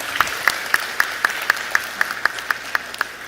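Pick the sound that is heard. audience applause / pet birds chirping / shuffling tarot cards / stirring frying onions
audience applause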